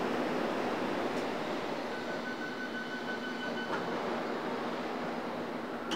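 District Line train on the London Underground running between Earl's Court and West Brompton toward Wimbledon, a steady, loud cabin rumble and rush that holds throughout, with faint tonal whines drifting in and out and no talking.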